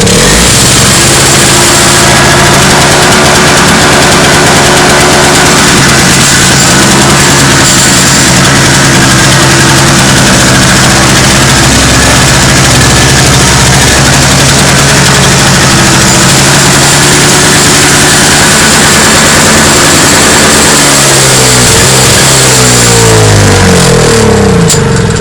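A Toro CCR 2450 snowblower engine, cold after long storage, fires up and runs at a loud, steady idle close by for the whole stretch, its pitch shifting slightly near the end.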